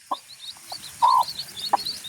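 Hen with her chicks clucking in a village yard: a few short clucks and soft calls at close range, with faint high chirps from the chicks running underneath.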